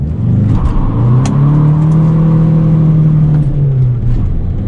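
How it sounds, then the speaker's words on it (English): An MK6 Jetta Sportwagen on Comp 2 A/S tires does a burnout, its engine revving loud and steady with a sustained droning tone and tire noise throughout, close by. "More importantly, will it do a burnout with Comp 2 ASs?"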